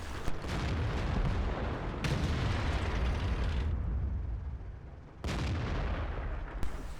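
Tank cannon fire from a VK 16.02 light tank in World of Tanks on the Erlenberg map, heavy booming blasts and rumbling battle noise filling the scene, with sharp onsets near the start, around two seconds and after five seconds.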